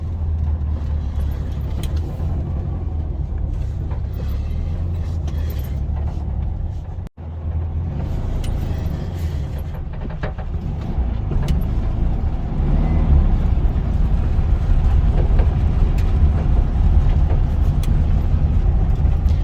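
A 1974 Volkswagen Beetle's air-cooled engine runs steadily with a low, loud rumble throughout, a brief dropout near the middle, then grows slightly louder and rougher toward the end, with no talking.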